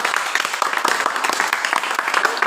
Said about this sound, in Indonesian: Silakan dulu kita kasih aplaus